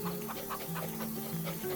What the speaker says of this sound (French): Et on va donc mettre ces petits poulets